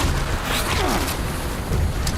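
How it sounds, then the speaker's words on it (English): An explosive bait blast in Fallout 76 goes off as a dense, loud boom that fills the whole moment, with a rumbling roar sustained throughout and no talk. "Alright, there was an explosion."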